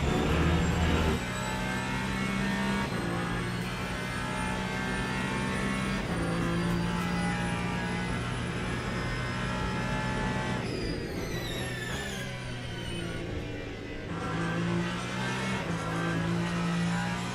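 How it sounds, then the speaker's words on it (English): An LMP2 prototype race car engine in the Le Mans Ultimate racing game at Sebring, droning steadily and loudly for the whole stretch, with its pitch shifting through gear changes and no talking. "Time to race our LMP2 car then."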